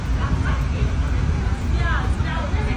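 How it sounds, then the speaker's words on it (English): A guide dog just off an airplane gives excited bow-wow barks and whimpering yips, close and fairly loud, over steady background babble and crowd noise in an airport. "My guide dog was so excited to get us off this airplane"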